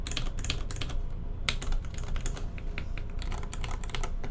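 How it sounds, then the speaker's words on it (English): Rapid, close typing on a Hirose UK78 mechanical keyboard with skeletal keycaps and Hirose switches: dense, continuous clacky keystrokes with a few sharper, louder strikes, no voices. "This is why my typing tests sound a lot louder than a lot of other people's."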